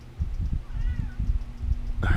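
A cat meows once in a short, rising-falling whine, close by, amid handling noises and a low background hum.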